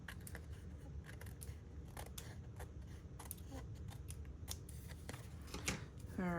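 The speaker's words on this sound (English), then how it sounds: "we're gonna trim. Just take our snips and carefully" Snips trimming sticky paper during a craft fold project, a run of short crisp cuts with clicking transients across the span, close and moderately quiet, with faint rustling and background murmur under them.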